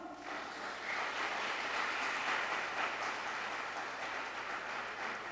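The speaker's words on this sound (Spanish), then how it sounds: "Dele un aplauso al Señor" A church congregation applauds together in steady, sustained clapping that fills the room at close range, with no talking over it.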